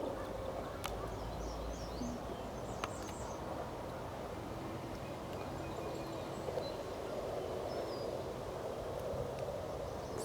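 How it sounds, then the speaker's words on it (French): Ducks and other birds call across a marsh, scattered quacks and chirps rising faintly over a constant low outdoor hum, distant and continuous for several seconds. "il y a une quantité d'oiseaux incroyable ici dans ce marais-là"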